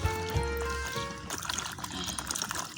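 Water trickles and splashes as okra is rinsed in a bowl, a faint, uneven pouring sound over a few seconds.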